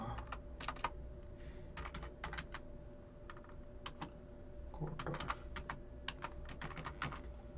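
Text typed on a computer keyboard during a graphic design session, a quick irregular run of close key clicks in short bursts with brief pauses, no one talking.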